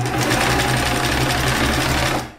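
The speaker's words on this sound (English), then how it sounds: "I'm already set up on my sewing machine" A sewing machine runs steadily and loudly at close range while sewing a seam on a sweater, then stops abruptly.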